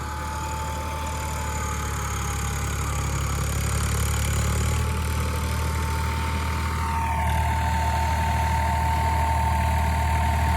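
A Swaraj tractor runs with a Swan rotavator planter attached, a steady droning engine note with a constant hum that shifts slightly in pitch partway through.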